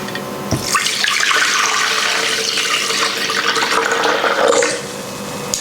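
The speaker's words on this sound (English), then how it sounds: "I'm gonna put in the nettle liquid" Nettle liquid poured into a blender for a smoothie makes a continuous, close, loud splashing gush lasting about four seconds before trailing off.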